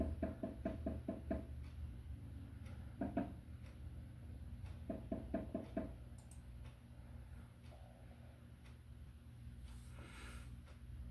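Knocking on a front door in an audiobook: several short bursts of sharp, evenly spaced knocks, moderately close, separated by pauses over a steady low hum, with no voices during the knocks.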